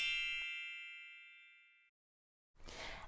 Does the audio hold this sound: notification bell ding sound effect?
yes